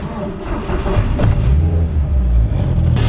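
Ignitron 1.8T car engine running on a dyno, held near 3,000 RPM, making a loud, steady low rumble and drone that continues for the whole stretch without pause.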